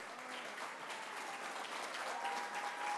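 Applause from an inauguration crowd in North Hempstead greets newly elected councilman Yaron Levy and his family, a steady dense wash of clapping that holds at an even level throughout.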